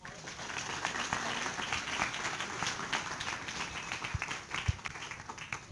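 A round of applause for a presenter during an engineering lecture, moderate clapping from a classroom audience that runs steadily with a few sharper claps near the end.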